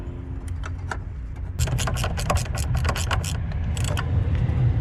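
Battery terminal on a 2011-2017 Honda Odyssey being tightened, a run of quick metallic ratcheting clicks and tool rattles up close over a low engine-bay hum, growing busier after the first second and a half.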